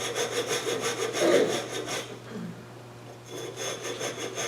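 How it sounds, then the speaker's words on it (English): A hand saw cuts wood while a scoop is shaped on a two-axis turning setup, rhythmic rasping back-and-forth strokes, pausing briefly in the middle before resuming. "Still use the saw."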